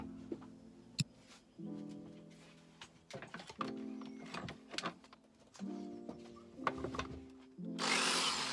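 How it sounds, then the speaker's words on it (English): A power drill whirs in short repeated bursts, close by, drilling a hole through clamped wood in a workshop, with scraping and knocking of tools between runs and a louder hiss at the end. "clamp it down so that I could drill a hole in the middle"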